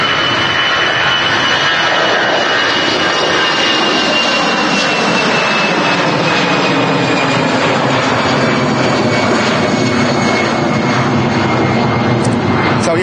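Star Alliance airliner taking off at Manchester Airport, loud sustained jet engine roar with a whining tone sliding slowly downward as it climbs away, voices heard faintly beneath.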